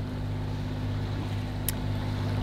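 Sailboat motoring under engine power with a steady low diesel drone and constant hum, wind and water rushing faintly over it, with one brief sharp click near the middle.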